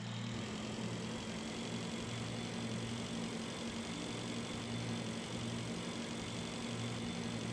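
Engine of a motorbike in the space game Breathedge running at a steady idle, a continuous low hum with a constant drone held evenly throughout, no talk over it.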